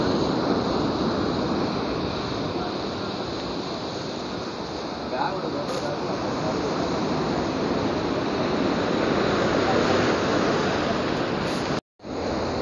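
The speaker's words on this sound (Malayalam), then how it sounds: "ഇവിടെ കടലിൻ്റെ സൗണ്ട് കൊണ്ട് കേൾക്കാൻ പറ്റുമെന്ന് അറിയത്തില്ല." Sea waves surge steadily beside a watch tower at a large coastal fort in Kerala, a constant broadband wash of surf mixed with wind, close and loud throughout with no talk.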